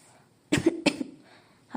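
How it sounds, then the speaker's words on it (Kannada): A woman coughs twice in quick succession, each burst harsh and close, with a cold and fever, then a voice begins speaking at the end. "ಕೆಮ್ಮು"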